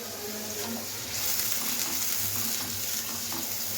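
A ground paste of tomato, onion, garlic and ginger sizzles in a hot pan, a steady hissing, crackling fry with faint stirring scrapes, close up and continuous with no talk.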